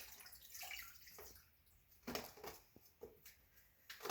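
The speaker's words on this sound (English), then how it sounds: "I'm actually going to add that water because it said to have it come up about halfway on your meat" Water pours into an Instant Pot over a corned beef brisket, a steady close splashing stream with small surges and drips throughout.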